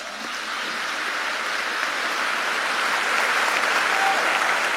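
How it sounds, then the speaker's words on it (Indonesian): A seated audience claps together through the whole stretch, dense and sustained, swelling slightly after the start and holding steady without any voices rising above it. "Tepuk tangan untuk kita semua."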